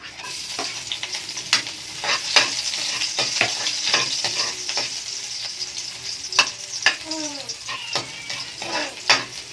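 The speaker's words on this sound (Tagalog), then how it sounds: "So gigisan natin to." Garlic sautéing in a pan for mung bean stew, a soft continuous sizzle with intermittent scraping stirs and light clinks of utensil against cookware, close and moderately quiet.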